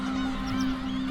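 A black-tailed gull colony sounds off in a steady, honking, nasal clamour of several birds calling together, loud and close, with a droning tone held underneath and no gaps.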